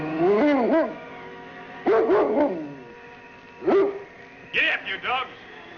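Sled dogs in a radio drama set in the Yukon give several loud, close barks and yips in separate bursts with short gaps between them.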